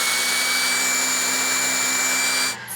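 A small, lightweight detachable vacuum cleaner runs at a loud, steady whine with a high tonal hum, then cuts off abruptly near the end.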